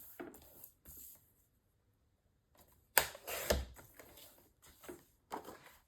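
Paper trimmed on a paper trimmer for a mini album page, a few sharp close slicing and clacking bursts separated by quiet pauses, one louder cut near the middle.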